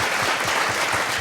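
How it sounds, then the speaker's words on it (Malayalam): A studio audience at a TV show claps loudly for a film music director in a dense, continuous burst of applause. "ഈണങ്ങൾക്ക് ആദ്യമേ തന്നെ വലിയൊരു കൈയടി."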